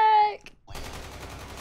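Rapid automatic gunfire from a machine gun in Call of Duty Mobile, a steady stream of shots that follows a brief voice.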